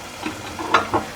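A spoon stirs chicken with salt, sugar and seasoning in a hot pan, giving a few short scraping strokes over a soft sizzle.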